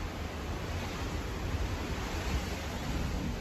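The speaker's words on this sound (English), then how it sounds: "Look how choppy the waves are." Choppy sea waves in the early morning, heard from a boat as a steady, broad wash of water and wind noise that holds at a constant level with no distinct breaks.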